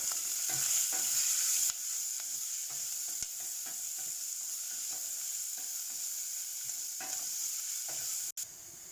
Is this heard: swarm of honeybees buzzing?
no